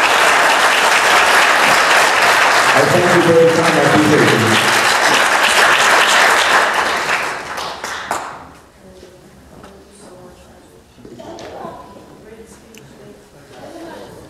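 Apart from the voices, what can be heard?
round of applause for the parents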